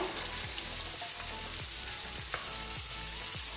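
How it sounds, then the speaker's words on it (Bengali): Onions and ginger paste frying in hot oil, a dense continuous sizzle with occasional scraping strokes of a spoon in the pan, close and steady throughout. "পেঁয়াজটা আমি কিছুক্ষণ ধরে ফ্রাই করে নিলাম এরপর আমি তেলে দিয়ে দেবো এক চামচ এক চামচ আদা বাটা"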